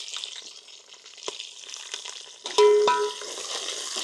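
Onions hitting hot oil for mutton pulao give a close, bright sizzle and crackle, with stirring clatter and a sudden louder burst of hiss partway through, no talk.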